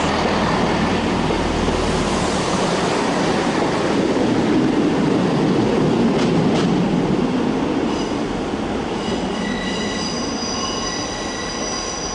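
A Class 158 diesel passenger train departs Manchester Piccadilly station, rumbling steadily past with rolling wheel noise and a few high metallic squeals toward the end, no voices.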